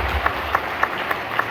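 Applause from a church congregation during a Catholic sermon, a steady wash of many hands clapping at moderate distance, with a few louder individual claps standing out at regular intervals.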